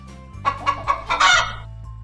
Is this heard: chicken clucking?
yes